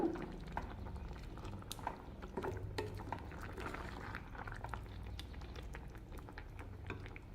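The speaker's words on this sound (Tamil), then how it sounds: "ஒரு கொதி வந்துருச்சுங்க தேங்காய் ஊற்றின பிறகு" A pot of seven-vegetable avial with added coconut simmers, giving a continuous soft bubbling and gentle liquid patter close by.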